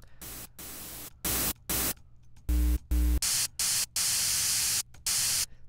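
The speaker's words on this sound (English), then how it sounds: "I'm going to turn on just the white noise." Bursts of synthesized white noise switch on and off in short blocks, some brighter and some with a low humming tone underneath.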